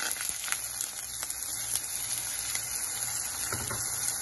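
Onion and curry leaves frying in hot oil in a pan for a Tamil chicken curry: a steady, dense sizzle that stays even throughout, close, with no voices.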